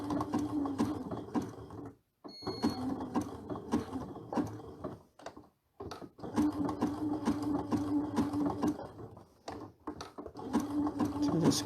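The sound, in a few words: sewing machine stitching an appliqué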